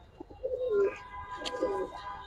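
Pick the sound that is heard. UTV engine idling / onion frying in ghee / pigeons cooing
pigeons cooing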